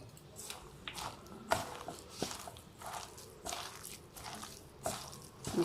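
Wet, squishy squelches of onion pakoda batter being pressed and mixed by hand with a splash of water, soft irregular pulses close up with no talking.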